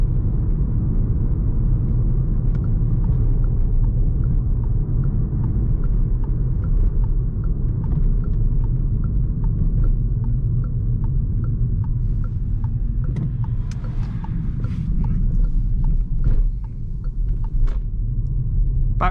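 Steady low rumble of tyres on tarmac heard from inside a Peugeot e-208 electric car with no engine sound, a constant road roar with faint scattered clicks and bumps over roughly twenty seconds.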